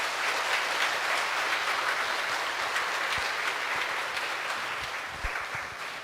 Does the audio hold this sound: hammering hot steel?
no